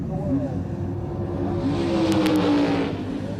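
Drag racing cars, including a Plymouth Barracuda, accelerate down the strip at the 1971 NHRA Winternationals, a steady roar rising under an announcer's voice, with brief sharp bursts near the end.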